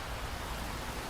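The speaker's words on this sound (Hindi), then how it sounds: "बारिश बहुत तेज थी।" Heavy rain in a Hindi jungle cartoon pours as a steady, dense hiss, an unbroken wash of falling water with no voices over it.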